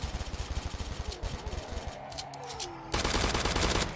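AR-160 assault rifle fired in a Roblox zombie game, rapid automatic bursts crackling continuously, briefly easing into a rising whine before a dense, loud burst of fire resumes.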